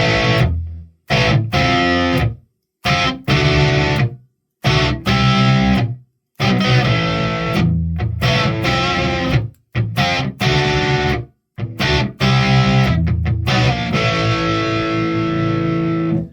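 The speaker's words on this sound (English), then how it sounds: "So you start going a little bit heavier with some distortion." Heavily distorted electric guitar, a Donner HUSH X Pro, plays loud chords and riffs in bursts separated by short silences, thick and saturated throughout.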